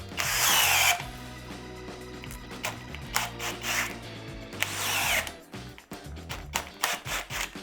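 DeWalt DCD800 drill driving a 1-inch speed bore bit into wood: loud bursts of motor whine and bit rasping that stall and restart repeatedly, with rubbing and scraping between pushes.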